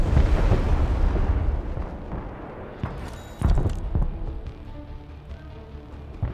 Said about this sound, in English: rockets are coming in, dropping their, their munitions all over that village